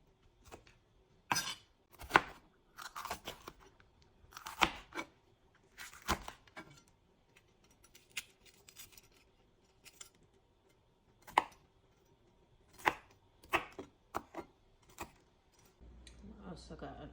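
Knife chopping vegetables for salt fish and okra, a series of sharp, irregular cuts and taps on a board, fairly close, with quiet gaps between strokes and talk nearby.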